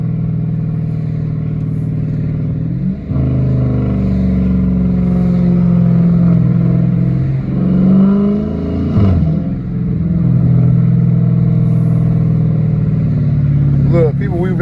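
Catless Dodge Challenger RT exhaust pulling through traffic, a loud, deep engine drone that swells and rises under acceleration with small gurgles and pops, steady and close throughout with a brief dip around three seconds.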